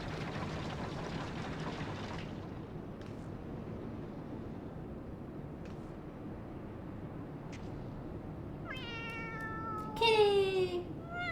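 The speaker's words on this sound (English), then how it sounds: "Kitty!" A cat in the video game Final Fantasy XIV meowing once, a short high rising-falling meow near the end after a long stretch of quiet ambient background with faint ticks.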